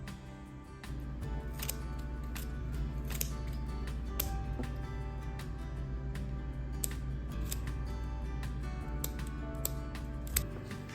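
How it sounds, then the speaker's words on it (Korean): Scissors snip flower bouquet stems to an even length, a series of sharp, close clicks spaced irregularly over a steady low background hum. "이렇게 묶고 나면 줄기 길이가 제각각인데요. 일정하게 맞춰서 잘라줍니다."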